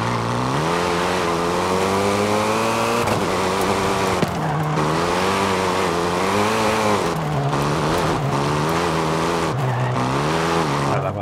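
A Hyundai Elantra in Forza Horizon 5 revs hard through a series of corners. The loud engine note climbs and dips with each shift and turn, and tire squeal comes and goes over roughly eleven seconds.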